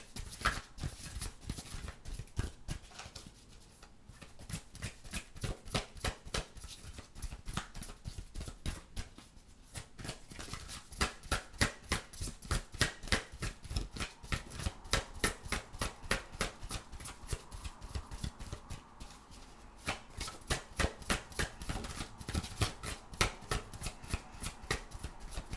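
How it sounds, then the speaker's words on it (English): Tarot cards being shuffled at close range: a long run of rapid, rhythmic riffling snaps, each burst of cards flicking together in quick succession, with brief pauses between rounds and no talking. "let me get your surprise card or cards here"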